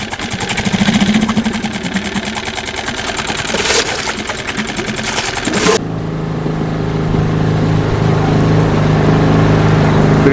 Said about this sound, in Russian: Грею мотор.